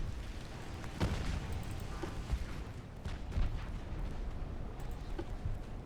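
Naval guns firing in Ultimate Admiral Dreadnoughts during an 1895 Russia versus Britain battle, several dull distant booms spaced irregularly over a constant low rumble of sea and ship noise.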